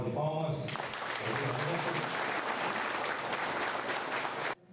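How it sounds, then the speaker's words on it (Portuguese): Sustained crowd applause at a mayoral swearing-in ceremony in Santo Antônio de Leverger, a dense, steady wash of clapping that starts just after a voice and cuts off abruptly near the end. "Uma salva de palmas."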